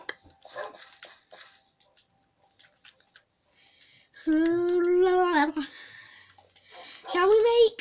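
A puppy gives high, thin whimpering yelps in two short bursts, close and fairly loud, between stretches of children and adults talking quietly.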